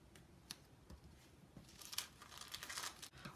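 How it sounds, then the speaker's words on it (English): Little pieces of paper are torn by hand for a stained glass craft, giving soft, quiet crinkling and ripping sounds in short bursts, louder near the end. "you can either tear little pieces like that"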